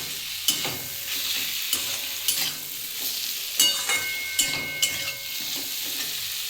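Spinach sautéing with raw onion and salt in a pan, a low steady sizzle broken by several sharp spatula scrapes and knocks against the pan as it is stirred, close up with no talking.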